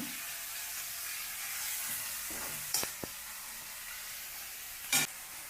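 Onion and spices roasting in a pan for Ballari-style mandakki oggarane, a soft continuous sizzle close by with a few sharp utensil clicks and taps over it.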